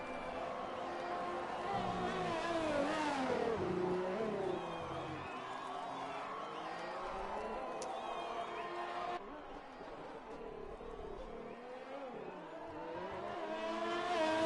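An F1 car on a qualifying lap at Abu Dhabi in F1 2020, engine note rising and falling through gear changes for the whole stretch, with a commentator talking over it.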